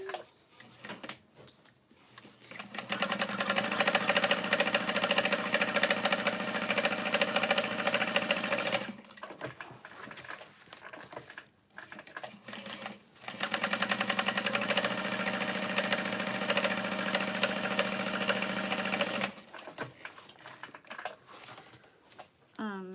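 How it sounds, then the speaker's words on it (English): A sewing machine stitches vinyl onto a bag in two long, loud, steady runs of rapid mechanical chatter, separated by a brief pause with clicks and handling noise, ending in quieter rustling. "So yeah, so I'm just gonna sew that on."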